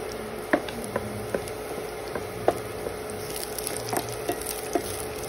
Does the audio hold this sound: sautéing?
yes